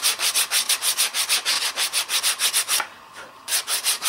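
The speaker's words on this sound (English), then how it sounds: "Just wrap a piece of aggressive sandpaper around an old handle, broom handle, whatever, and just" Aggressive sandpaper wrapped around an old stick rasps rhythmically against a wooden axe handle, loud close strokes in a steady back-and-forth beat, briefly pausing before resuming.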